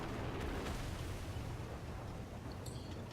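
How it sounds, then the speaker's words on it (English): Artillery fire explodes around a Hetzer (Jagdpanzer 38(t)) tank in a War Thunder ground battle, heard as a continuous, noisy rumble with faint cracks and pops throughout. "artillery fire. Yep, they definitely know where I am. They're playing artillery."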